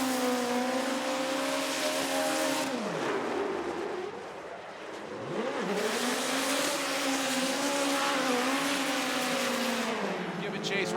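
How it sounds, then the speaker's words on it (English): Toyota Corolla hatchback with a turbocharged, nitrous-fed four-cylinder drifting at a championship run, its engine screaming at high revs, dipping briefly and climbing again while an announcer talks over it. "Lay back and listen to this 4-cylinder turbocharged nitrous hatchback."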